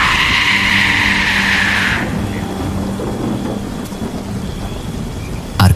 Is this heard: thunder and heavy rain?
yes